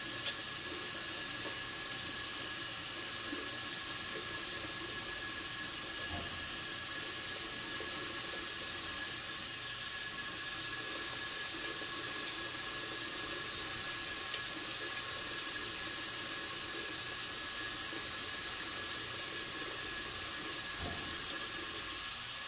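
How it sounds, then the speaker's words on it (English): Tap water runs steadily into a sink during hand washing for a partial bed bath, a continuous soft hiss with faint splashes and a few small knocks, fairly close and without talk. "Started with washing our hands first. Wet your hands, apply soap, 20 seconds."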